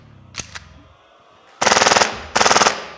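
Tokyo Marui Extreme 45 gas airsoft pistol firing on full auto: two single clicks, then two loud rapid bursts of shots, each close and running about half to three quarters of a second.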